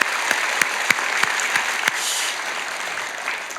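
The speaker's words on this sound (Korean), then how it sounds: "우리 찬양대 다시 한번 감사의 박수 하죠" A church congregation gives the roughly 300-member choir a round of thanks at a women's mission society service: dense, steady clapping from a large crowd, with a few sharp individual claps standing out early before the applause thins slightly toward the end.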